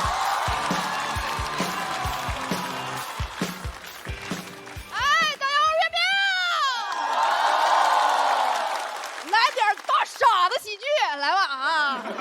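Studio crowd at a stand-up comedy show bursts into applause and cheering for a comedian, with loud whoops and rising shouts swelling and fading over the noisy clapping.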